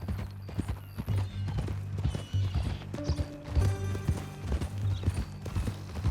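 A horse's hooves clip-clop steadily at close range on a ranch in Red Dead Redemption 2, with a whinny rising partway through over a low background hum.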